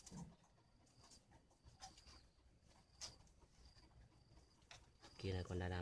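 Spotted doves cooing at a bird breeder's place in northern Vietnam, a few soft, low coos spaced out under background noise, with a louder burst of sound at the very end.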